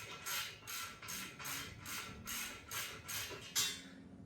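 Bolts being run in with a ratchet during an LS engine and transmission install in a 1986 Cutlass, a steady series of about nine rhythmic clicking bursts, close and fairly quiet, with no talking.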